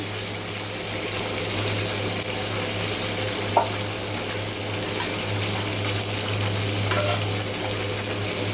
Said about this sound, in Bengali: পনিরটা ভেজে নিচ্ছি।